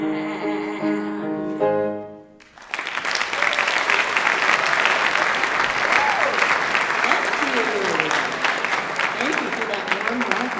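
Theatre audience at a fine arts week show bursts into loud, sustained applause welcoming the performers, following the last notes of a ragtime song, the clapping dense and continuous to the end.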